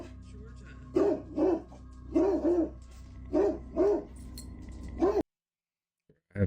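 A dog named Georgia barks anxiously indoors at an old oil portrait on the wall, a series of about eight sharp, loud, close barks in quick pairs, ending abruptly in silence.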